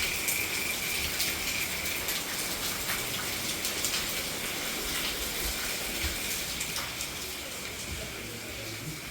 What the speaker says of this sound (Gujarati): વરસાદ તો રાતનો ચાલુ જ છે